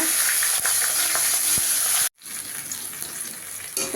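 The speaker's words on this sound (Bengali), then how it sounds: "এবার মাছের মাথাটা ভেজে নেব" Loud, steady sizzling of a fish head frying in hot oil until browned, cutting out abruptly for a moment midway before the hiss resumes slightly quieter.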